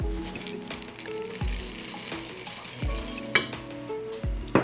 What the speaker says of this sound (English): we just want to fold those into the batter